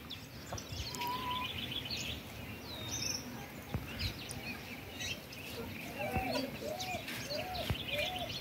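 A peacock calls outdoors with a few short, rising cries late in the stretch, faint and somewhat distant over steady background hiss and chirps from other birds.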